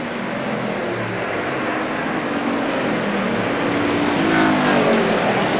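Race cars on the Saugus Speedway track in a 1985 street stock main event roar as a dense, continuous engine drone, loud and steady with a slight swell as the field passes, no voices.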